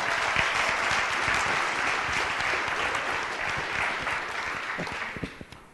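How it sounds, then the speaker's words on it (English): A crowd applauds steadily for several seconds, dense clapping that tapers off and thins to a few last claps at the end. "Let's give Shannon another round of applause."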